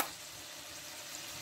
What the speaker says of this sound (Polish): Już pięknie słychać, jak się tłuszczyk wytapia.